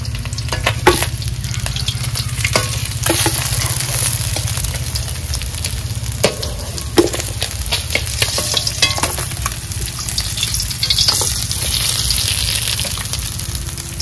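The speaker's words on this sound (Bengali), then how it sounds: "মাছ ভাজা হয়ে গেছে" Freshly netted fish fry in hot oil in a home kitchen, a loud, steady sizzle running throughout with intermittent stirring and scraping clatter, close by and with no voices.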